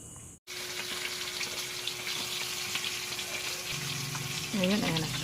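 Tilapia frying in hot oil, a steady bright sizzle after a brief cut, continuing evenly with a tonal hum and faint voice-like sounds near the end.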